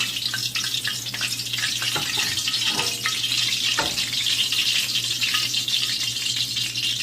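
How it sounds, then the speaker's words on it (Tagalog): Fish sizzles and crackles steadily in hot oil in a frying pan, a continuous close hiss with occasional sharper pops and spatters. "So, iprito muna natin uli yung isa pa."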